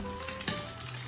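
Beaten egg and tofu sizzle in hot peanut oil in a wok, a steady close frying hiss with a few soft pops and clatters, no voices.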